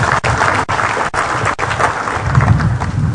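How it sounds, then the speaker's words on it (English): A seminar audience applauds after a presentation with steady, close clapping that fills the whole short stretch, broken by a few sharp individual claps. "A round of applause."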